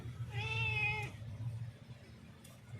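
A pet cat gives a single drawn-out meow close by, reacting to live fish brought home for a thin fish curry. A low household hum continues underneath, with no talking.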